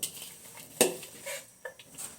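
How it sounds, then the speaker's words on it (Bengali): An iron wok set down on a home kitchen stove before greens are cooked, a single sharp metallic clank near the middle with small clattering knocks afterward, close and fairly quiet. "এখন আমি কড়াইটা বসাই দিলাম"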